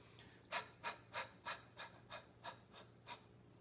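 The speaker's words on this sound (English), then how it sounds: "So this breathing is almost like a panting." Quick, rhythmic panting breaths, about ten short puffs evenly spaced at roughly three per second, close and quiet with no talking.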